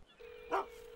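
A single short dog bark, quick and fairly close, after a thin whine, with a second bark starting at the end, in a Polish-dubbed Fireman Sam cartoon.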